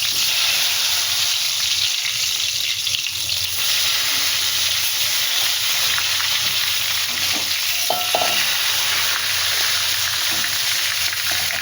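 Eggplant pieces fry in hot oil in a pan, a steady loud sizzle and hiss throughout, with a few faint stirring sounds.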